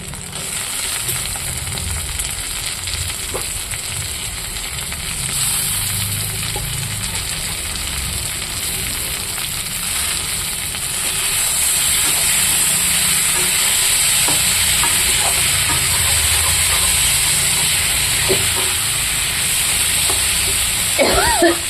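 Chopped tomatoes hit hot oil with reddened onions in a pan, producing a steady broadband sizzle and frying hiss that swells louder partway through, with occasional stirring clinks and no talking.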